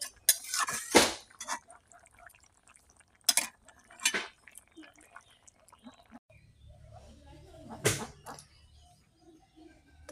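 A pot of vegetable curry is lifted off a home kitchen stove, giving several sharp metallic clanks and scrapes spread across the moment, with quieter handling noises and faint background sounds in between.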